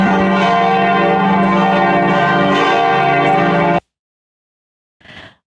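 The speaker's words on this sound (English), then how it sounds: "I loved hearing the bells ring when we were there." Loud, sustained church bells of the Montserrat mountain monastery in Spain ring together in a rich, resonant peal, then cut off, followed by a brief faint sound.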